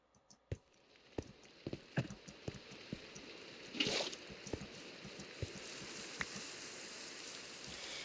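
Light rain in Minecraft patters steadily, with scattered sharp drips and taps standing out over a soft, continuous hiss; quiet and close.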